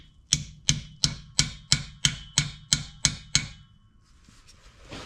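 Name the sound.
hammer tapping a part into a Land Rover Discovery 3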